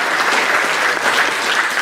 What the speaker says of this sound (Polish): Także wielkie brawa, drodzy Państwo, za to, że jesteście